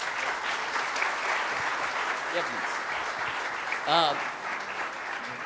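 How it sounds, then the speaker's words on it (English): A keynote audience at a brand summit keeps up sustained, dense applause that fills the hall. A brief voice cuts in near the end. "Let those claps keep going on."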